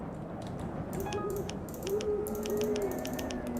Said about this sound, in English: what's that clicking sound? Almost like someone recorded a Windows sound over the music.